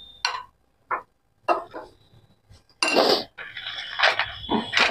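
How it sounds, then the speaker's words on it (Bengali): Turmeric and chili powder are mixed in a bowl with a spoon. Sharp, separate clinks and scrapes of metal against the bowl come at an irregular pace, then turn into a denser burst of stirring. "তো এটাকে আমি ভালো করে একটু মিক্স করে নেবো।"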